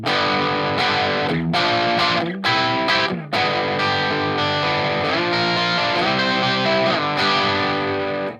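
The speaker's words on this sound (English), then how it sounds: "Let's check out the sound from the overdrive and the tube screamer." Electric guitar through a Helix preset with overdrive and a Tube Screamer, playing sustained distorted chords and notes with brief gaps, loud and focused, no talking.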